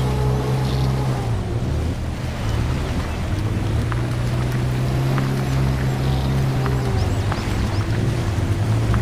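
A Suzuki Jimny engine revs continuously while driving through mud in the Mudrunner American Wild video game, a steady loud drone with layered low harmonics and gritty noise throughout, no talking.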